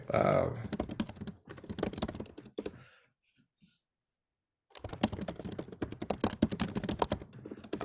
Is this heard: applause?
no